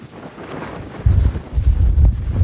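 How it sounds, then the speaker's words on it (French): Strong wind buffets the microphone at the Gouffre de Plougrescant on the Brittany coast, building into heavy, rumbling gusts after a quieter start. "Le vent y est souvent puissant"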